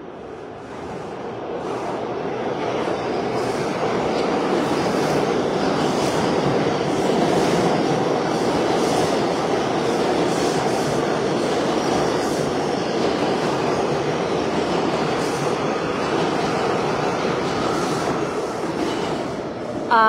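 A New York City subway train rumbles steadily for the whole stretch, loud and close, with rhythmic clacking of the wheels on the track and no voices.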